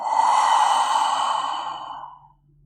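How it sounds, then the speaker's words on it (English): A single long, breathy exhale through the open mouth with the tongue stuck out during an evening yoga session, close and steady for about two seconds before fading to silence. "Exhale, stick your tongue out and breathe out through the mouth."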